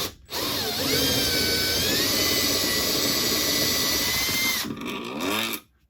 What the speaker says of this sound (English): Instead of doing it by hand, I'm just going to use my drill